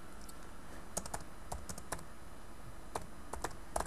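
Typing on a computer keyboard, light irregular key clicks in small quick clusters with short pauses, close and faint over a low steady background.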